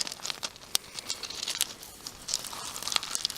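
Weeds tear free from wet, muddy soil with crackly, crinkling rips and small snapping bursts, close and distinct, several tugs in quick succession.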